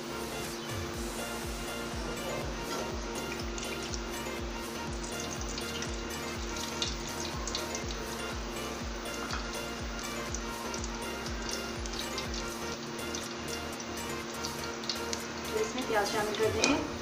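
Oil heating in a cooking pot for kofta curry gravy gives a steady, crackling sizzle throughout, close and moderately loud, with some rougher spattering toward the end.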